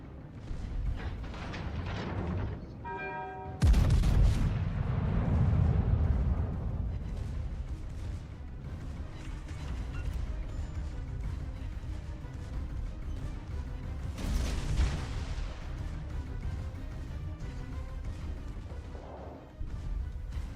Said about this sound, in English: Concentrate fire on that enemy warship.